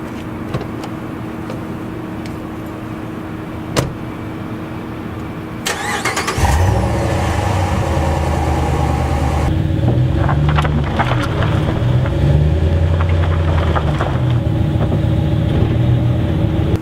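A light truck hitched to a trailer idles steadily, then around the middle its engine cranks and fires, rising into a louder rumble as it pulls ahead, with small clicks and knocks along the way.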